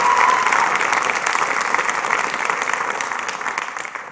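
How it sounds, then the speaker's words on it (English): A crowd at a high school graduation ceremony applauds the graduates, dense steady clapping that stays strong and slowly eases over a few seconds. "let's give them a round of applause for that."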